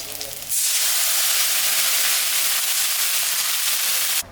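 Water poured into a pan of frying onions and green chillies erupts into a loud, steady hissing sizzle that begins abruptly and holds for several seconds before cutting off.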